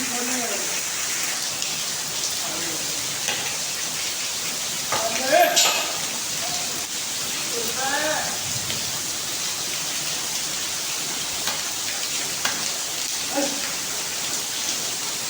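Steady rain patters and hisses throughout, with occasional voices and small bumps in the background.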